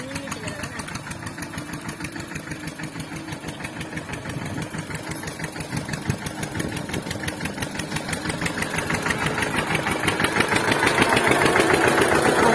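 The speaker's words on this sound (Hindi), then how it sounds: "उधर ट्रैक्टर चल रहा है, भैया उधर ट्रैक्टर चला रहे हैं" A tractor engine runs in a farm field, a steady rhythmic chugging drone that grows gradually louder and nearer over the span, with no talk over it.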